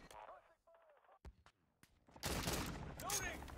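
Gunfire in an online shooter game: a couple of sharp isolated shots, then a dense burst of noisy fire. It sounds faint and is mixed with other game sounds.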